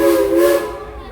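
A train whistle sounds as the train departs, a loud, close, brief tonal blast that fades away within about a second, with no talk.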